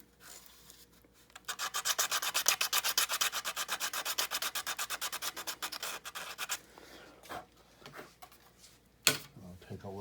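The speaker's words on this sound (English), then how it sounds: "So I just take some 60 grit or so, just roughing it up a little bit." Hand sanding with roughly 60-grit sandpaper, roughing up tabs on a Freewing Cougar RC jet model: fast, close, rhythmic rasping strokes for several seconds, then a pause and a few scattered scuffs and handling knocks.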